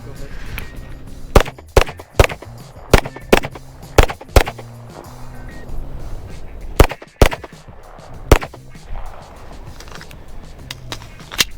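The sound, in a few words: APF Strike One pistol gunshots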